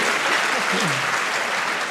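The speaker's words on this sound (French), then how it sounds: "on peut l'applaudir et lui fêter un bon anniversaire" A public conference audience applauds loudly in a hall, a dense steady wash of clapping, with a brief murmur of voices partway through.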